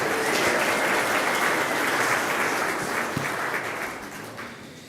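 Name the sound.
congregation applause for a birthday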